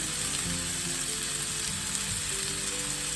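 Garlic sizzling in a hot pan with a frying duck omelette, a dense continuous hiss and crackle, close and steady throughout, with no talking.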